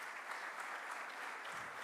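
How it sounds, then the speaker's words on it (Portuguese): A church congregation at a youth congress applauds its work team with dense, steady clapping that fills the room from start to finish, with faint voices mixed in. "Vamos aplaudir esse povo abençoado."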